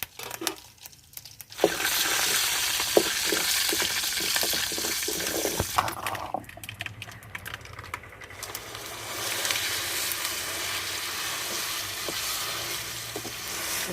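Tempering of urad dal, mustard seeds, cumin and asafoetida spluttering in hot oil on a wood-fired stove for chutney: a brief quiet start, then loud, continuous crackling sizzle with a few sharp pops, dipping briefly midway before surging again.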